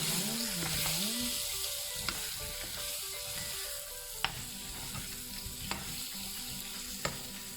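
Goat meat frying with chili in a pan, sizzling steadily throughout while being stirred, with a few sharp scrapes and taps of the utensil near the end; close up, no talking.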